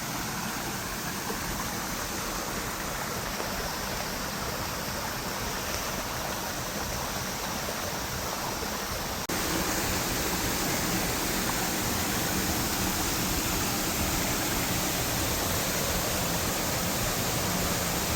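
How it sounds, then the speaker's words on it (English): Small waterfall on Obi Obi Creek after heavy rain: a continuous, dense rush of falling water, close and steady, slightly louder in the second half. "And there's a little waterfall there."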